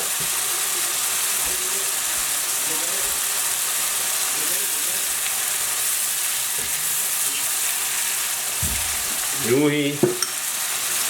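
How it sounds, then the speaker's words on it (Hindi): Onions fry toward semi-brown in a pot as the base for a fish biryani yakhni, giving a steady, fairly loud hiss with occasional stirring knocks, and someone speaks briefly near the end. "प्याज से बिरयानी का यखनी बनानी शुरू की है, तो सेमी ब्राउन करेंगे"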